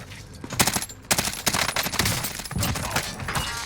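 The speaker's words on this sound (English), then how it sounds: "Someone's sniping at me." Rapid gunfire bursts crack in a Call of Duty Warzone match, several sharp volleys over a few seconds, loud and close, with brief gaps between shots.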